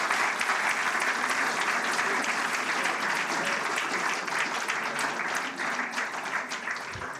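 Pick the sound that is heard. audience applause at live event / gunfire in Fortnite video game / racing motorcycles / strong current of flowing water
audience applause at live event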